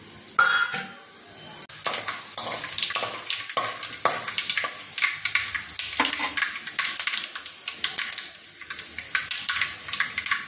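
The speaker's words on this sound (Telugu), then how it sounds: "ముందుగా కళాయి పెట్టి ఆయిల్ వేసాను. పల్లీలు, తాళింపు గింజలు వేసేద్దాము." Peanuts and tempering seeds fry in oil in a kadai for wheat rava upma, giving a steady sizzle broken by repeated metal spatula scrapes and stirring clinks, close and fairly loud throughout.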